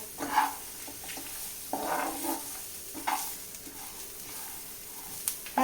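Masala roasts in a pan on low heat while a spoon stirs it in a few scraping strokes. A quiet sizzle runs steadily underneath, with no voices.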